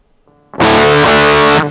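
Quiet guitar notes ring briefly, then a loud, buzzing distorted electric guitar chord through an EHX Metal Muff Pocket pedal with its clipping diodes switched out bursts in and sustains strongly for about a second.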